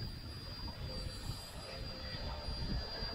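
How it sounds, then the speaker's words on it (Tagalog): Strong gusting wind roars steadily around an XK K160 helicopter during an outdoor test in roughly 50-60 kph winds, a dense continuous rumble with a faint high whine, loud and unbroken throughout. "Lakas din ng hangin. Mga 50-60 an hour to."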